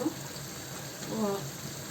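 Water rinsed from a blender jar pours into a cooking pot of chicken kabsa biryani in a home kitchen, a steady close splashing trickle running the whole time.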